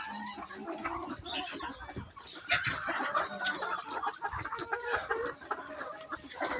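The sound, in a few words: free-range local hens clucking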